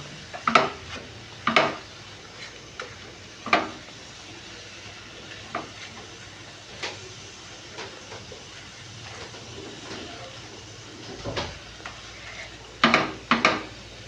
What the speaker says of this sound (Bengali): মশলাগুলো দিয়ে এবার এটাকে হালকা হালকা করে নেড়ে নেব ভাজা ভাজা করে নেব